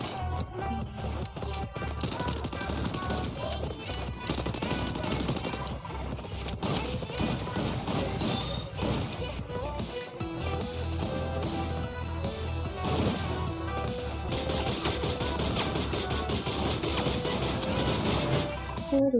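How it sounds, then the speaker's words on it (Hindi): Rapid bursts of gunfire crackle continuously over a dense, busy battle royale video game soundtrack, loud and sustained throughout. "पीस के पीस गोलियां खाली कर दी।"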